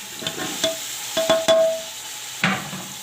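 Potatoes and cauliflower frying in a pan, a steady low sizzle broken by several distinct stirring scrapes and clinks of the spatula, close and fairly loud.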